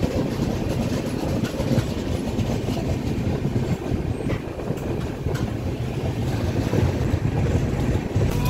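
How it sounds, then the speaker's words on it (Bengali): Continuous loud rumble and rattle of a passenger train entering Biswanath Chariali station, heard from on board as an even, heavy roar with no voices. "এখন ট্রেন ঢুকছে বিশ্বনাথ চারিয়ালি রেলওয়ে স্টেশনে।"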